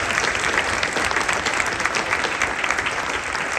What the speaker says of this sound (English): Let's give all a round of applause.